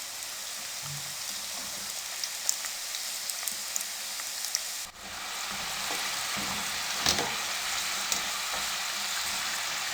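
Chicken spring rolls fry in cooking oil over a medium flame, giving a dense, steady sizzle and crackle close by. Small pops break through the hiss, which briefly dips midway and then grows slightly louder.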